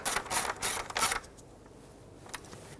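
A hand ratchet clicks in three quick bursts, snugging the bracket bolts by the thermostat housing on a Ford Ranger with a 4.0L V6. The clicks are close and loud, followed by quiet.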